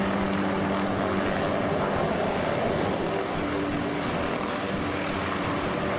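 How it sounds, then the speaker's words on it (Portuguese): A continuous, loud rotor-and-engine drone of a helicopter in the video game DayZ hovers overhead, steady for several seconds with no talking. "O helicóptero voando."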